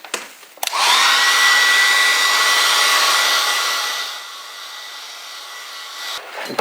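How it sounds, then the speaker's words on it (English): A hairdryer drying a watercolour painting switches on with a click and blows as a loud, steady whir, then drops to a lower setting partway through before clicking off at the end. "You can see here when I use a hairdryer that the paint becomes lighter"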